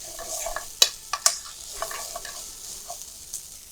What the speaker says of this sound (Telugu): ఆనియన్స్ ఫ్రై అయ్యాయండి